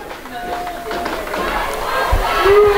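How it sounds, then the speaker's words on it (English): A loud baseball crowd at a college game between StMU and UHV, sustained cheering and shouting that swells steadily over the clip, with a commentator talking over it. "This crowd's still involved, still very loud."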